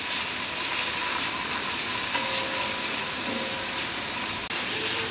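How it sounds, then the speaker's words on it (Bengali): Spiced chicken pieces frying and being stirred in a pan for Hyderabadi biryani give off a steady, close, loud sizzle with continuous broadband hiss and no talking throughout. "এবার এগুলোকে আমি সুন্দরভাবে কষাতে থাকবো।"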